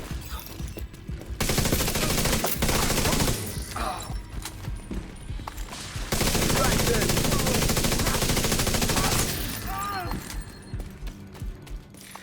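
Exotic Capacitor assault rifle firing in The Division 2, loud rapid automatic bursts close up, two long strings of fire separated by short pauses and quieter gameplay noise.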